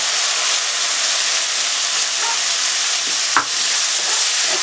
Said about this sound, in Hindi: अब हम इसमें डालेंगे टमाटर की प्यूरी